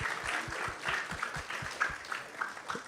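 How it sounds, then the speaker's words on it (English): A seated audience at a Krishna Katha spiritual gathering gives a fairly quiet round of applause, heard as steady, slightly rhythmic clapping at a distance. "let's give a big round of applause to everyone who has joined us tonight"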